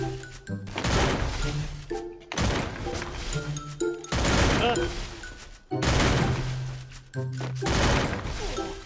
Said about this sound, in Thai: เอาปืนกลยิง ปืนกลยิง